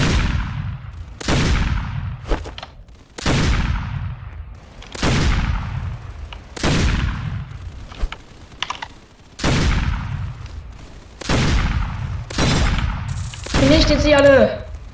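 Repeated pistol shots from the Roblox game Paragon Zombies, about ten sharp cracks at a steady spaced rhythm, each loud with a short decay, ending with a brief in-game chime.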